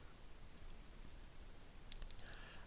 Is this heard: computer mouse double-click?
yes